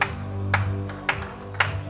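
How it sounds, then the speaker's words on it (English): An audience's slow clap: three sharp, evenly spaced claps roughly half a second apart ring out over a steady low hum, with no voices. "I don't know who started the clap."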